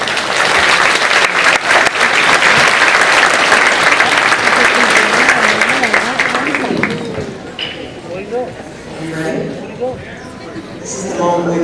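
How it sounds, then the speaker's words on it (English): Sustained applause from a graduation ceremony audience honoring a presenter, dense and loud at first, then thinning out with scattered claps and voices talking over it. "Let's give Bernice a round of applause"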